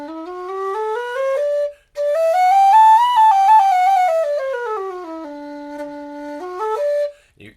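A Clarke Sweetone tin whistle plays a clear, loud melody with a strong low end. Sustained pure notes glide up and down, broken by one short pause and then a brief final phrase.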